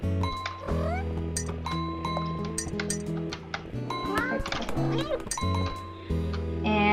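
Cartoonish cat meows from the Cat Herder video game, repeated rising mews and clinking chimes over busy game music, close and loud with a person talking over them.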